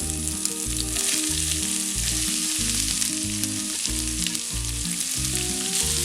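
Crushed ginger and finely chopped onions frying in coconut oil, a strong, steady crackling sizzle close by, with no voices over it.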